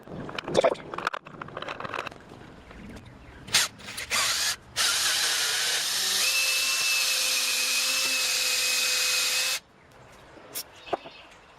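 A power drill with a number 25 bit bores into a stuck part of a 1971 Triumph 500cc engine during disassembly: a few short bursts, then a sustained whining run of several seconds, close and fairly loud.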